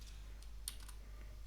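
A command is tapped out on a computer keyboard as a few soft, scattered keystroke clicks over a low hum, faint and close.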